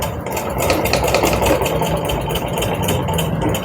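A sewing machine stitches along a folded petticoat strip, a fast, steady mechanical rattle of the needle running continuously at close range with no talk.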